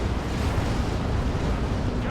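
A grenade goes off in a Dawn of War 2 battle, a heavy rumbling blast with a low roar that fills the whole moment, loud and steady with no voices.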